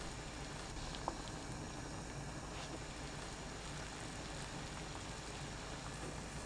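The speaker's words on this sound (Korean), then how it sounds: "끓는 물에 우엉 넣고 센 불로 6분 익혀주세요." Steady low bubbling of water boiling in a pot with burdock root cooking over high heat, a constant dense simmering rumble with faint pops, quiet and unbroken.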